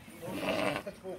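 A Hissar sheep gives one short, nearby bleat of about a second, rising and then fading, over a quiet farmyard background.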